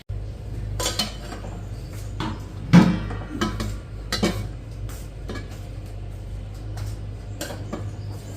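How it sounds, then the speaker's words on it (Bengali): A metal kadai is washed by hand at home, with scattered clinks and scrapes of the pan against a sink over a low steady hum. "আমি যে কড়াইটা ধুয়ে নিই এখন।"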